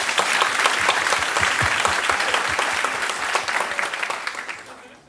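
A church congregation claps in a dense, continuous burst of applause, close and full throughout before dropping away at the very end.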